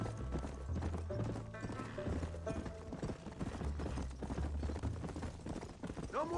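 A horse gallops in the video game Red Dead Redemption, its hooves beating a quick steady clip-clop throughout, mixed with a low tonal game score.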